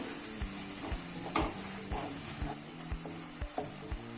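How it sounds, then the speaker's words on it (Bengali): Spices, salt and other curry ingredients for an egg and fish curry are stirred and fried together in a pan, with a steady sizzle broken by regular scraping strokes of a spatula about every half second. "2 মিনিট কষিয়ে নেব।"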